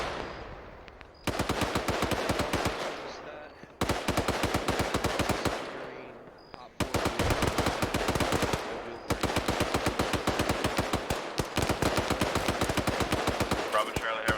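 Belt-fed machine gun in a military video game fires long, rapid automatic bursts, each a dense close rattle of shots, separated by brief pauses, loud and up front.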